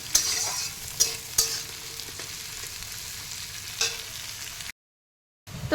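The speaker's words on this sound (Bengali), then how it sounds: "ক্যাপসি আর গাজরটাকে ভালো করে ভাজা ভাজা করে নেব।" Capsicum and carrot fry in a pan while being stirred, a steady low sizzle broken by a few sharp scraping clinks of the spatula, then a brief gap near the end.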